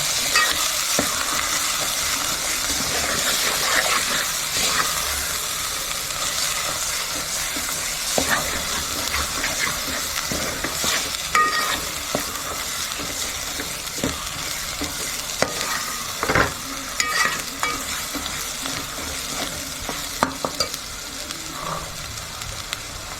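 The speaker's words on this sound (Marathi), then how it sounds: "गरम मसाला एक चमचा आता परत पुन्हा आपण परतून घेऊया" Ground garam masala and turmeric are sautéed in hot oil for mutton curry, giving a steady close sizzle with scattered scraping and clicking from the stirring spoon throughout, no voices.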